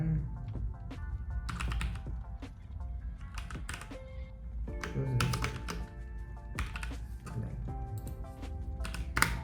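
Keys clatter in quick irregular bursts on a computer keyboard while code for a to-do list app is typed, with a low steady hum underneath and some faint speech.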